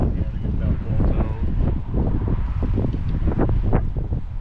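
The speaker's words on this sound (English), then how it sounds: "Windy as hell." Strong gusty wind buffeting the microphone outdoors during repair work on a 1972 Chevy Nova, a loud, continuous rumbling roar with rustling bursts throughout.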